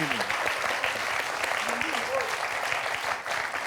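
Applause on a French television quiz show final, steady clapping throughout with a host's voice speaking over it.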